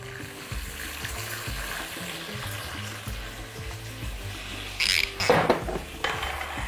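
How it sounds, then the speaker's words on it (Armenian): Red semi-sweet wine hits pieces of lamb frying in a pan for a lamb and quince sauce, setting off a loud, close sizzling burst near the end over steady background music. "ավելացնում ենք կարմիր կիսանապակ գինի"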